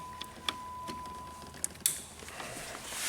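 A vehicle solenoid clicks as the key is turned on: a few sharp, faint clicks scattered over a quiet electrical hum, the last followed by a brief burst of hiss.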